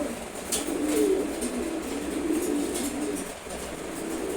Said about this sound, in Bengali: ওরা হচ্ছে খাকি কবুতর জোড়া।